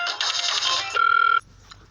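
Phone ringback heard on an outgoing call: a loud, steady electronic ring tone repeating alone for about a second and a half, then cutting off into near silence.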